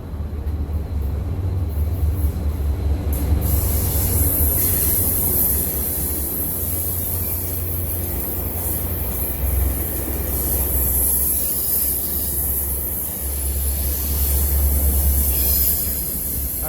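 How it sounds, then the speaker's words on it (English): A Sounder commuter train rolls past in Seattle as a continuous low rumble and rushing noise, steady and fairly close, with a high hiss on top and no talk. "That's the commuter train known as the Sounder."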